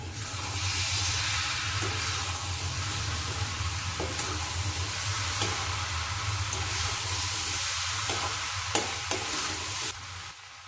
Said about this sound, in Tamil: வெங்காயம் அவள் எல்லாம் ஒன்றும் சேர்ற மாதிரி கலரி விடுறேன்